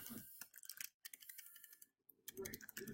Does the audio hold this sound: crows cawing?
no